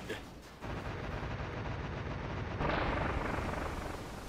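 A boss monster, the Coily Rattler in Kirby: Triple Deluxe, freezes back into statue form and blows up, a loud sustained rumbling explosion that swells partway through and rolls on without any voices.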